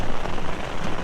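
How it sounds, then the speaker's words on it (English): Heavy rain pounds steadily on a tent at a campsite near a major dam release, a dense, close drumming hiss filling the brief moment. "Ooh, it's coming down good out there right now."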